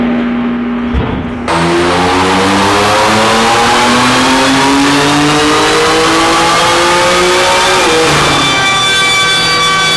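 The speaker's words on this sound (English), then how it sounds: "Here's a quick dyno pull just so you guys can see where it's at." A 720-wheel-horsepower BMW F80 M3 drift car revs hard through a dyno pull, its engine note climbing steadily and loudly for several seconds, dipping briefly at a shift, then rising again, close and continuous.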